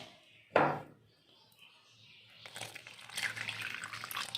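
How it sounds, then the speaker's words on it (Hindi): Water is poured gradually into gram flour (besan) batter: one sharp splash first, a short lull, then a continuing close trickle and slosh of liquid. "थोड़ा थोड़ा इसके अंदर हम डालेंगे पानी और इसका एक बैटर तैयार करेंगे।"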